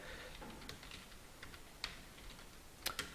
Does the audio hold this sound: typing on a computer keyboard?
yes